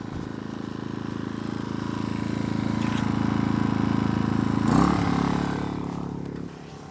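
A Heomaito 1200-watt inverter generator runs steadily at standard idle, a constant mid-level engine drone heard from about 20 to 25 feet away, swelling briefly before settling lower near the end.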